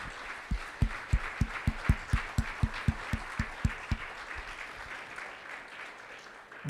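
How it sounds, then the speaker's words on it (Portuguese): Church congregation applause, mostly a dense wash of many hands, with a strong regular clap or beat marking a steady rhythm for about four seconds before it fades out. "eu convoco que você dê uma salva de palmas nessa noite."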